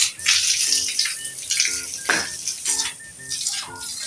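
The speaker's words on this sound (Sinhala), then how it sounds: "දැන් වතුර පුරව ගන්න තියෙන්නේ යාළුවනේ අපි වතුර බටේ දාමු" Water running from a hose into a backyard fish pond after cleaning, a steady splashing flow with some clinking and handling noises, no talk.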